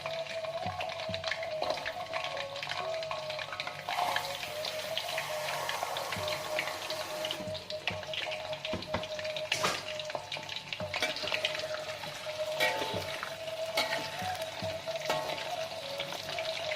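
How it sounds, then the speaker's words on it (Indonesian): Jengkol beans frying in hot oil for a Padang-style dish, a steady, even sizzle and crackle that runs throughout with occasional louder pops and clinks. "Kita panaskan minyak. Pertama-tama kita goreng jengkolnya dulu."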